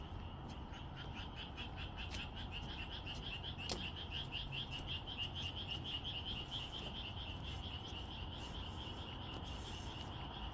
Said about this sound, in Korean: 개구리 소리가 요란했었는데 조금 들리네요.